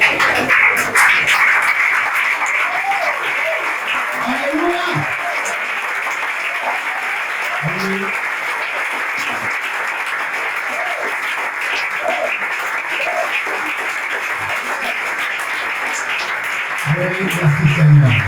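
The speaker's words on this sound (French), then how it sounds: "Nous allons nous lever et applaudir Chantal." An audience at a Togolese church anniversary tribute stands and applauds, a sustained, full round of clapping lasting many seconds, with scattered voices calling out over it.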